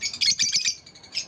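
Close, bright chirps from a breeder bird kept in a home, coming in quick bursts with short gaps and a final chirp.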